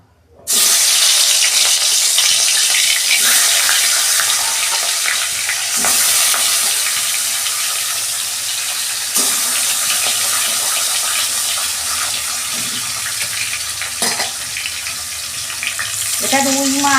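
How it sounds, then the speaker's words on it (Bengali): Rohu fish sizzling and frying in mustard oil in a kadai, a steady loud broadband crackle that runs throughout with a few sharper pops and a brief clatter near the end. "এই যে কড়াই তেল দিচ্ছি, আমি মাছটা ভাজবো।"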